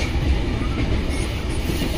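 The Duronto Express runs along the rails to Odisha, a loud, close, continuous rumble of wheels and carriage noise with a faint rhythmic clatter, steady throughout and without talking.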